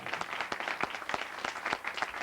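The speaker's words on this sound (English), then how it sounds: "how about some applause now" Audience applause at a 1981 community jazz band audition, a dense, steady patter of many hands clapping at close range for about two seconds with no voices over it.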